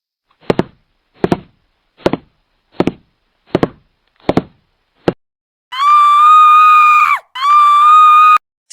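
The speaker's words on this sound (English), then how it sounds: "Tap feet." Feet tapping on a hard floor, six evenly spaced taps about three-quarters of a second apart, close and distinct, followed by a loud sustained scream.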